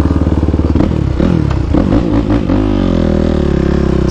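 Custom-built Yamaha YFZ450R sport quad with a single-cylinder engine, loud and close, revving hard with sharp throttle blips and a rapid clattering exhaust note that rises and falls.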